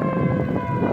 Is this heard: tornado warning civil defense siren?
yes